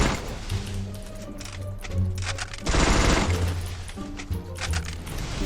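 Gunfire in the video game Free Fire comes as rapid automatic bursts, repeated volleys stuttering on and off at moderate loudness, with no talk over them.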